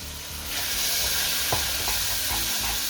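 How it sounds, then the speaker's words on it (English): Pre-cooked beans drop into flour sizzling and frying in a pan for a bean and sausage stew and are stirred through. A loud, steady hiss fills the clip, with a few soft scraping knocks from the stirring. "Flour is nicely cooked, so we go in with the"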